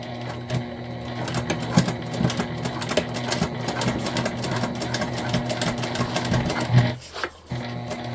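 Sewing machine running a straight seam across the bottom of a crossbody bag, a fast rapid needle rattle that runs steadily for several seconds before stopping near the end.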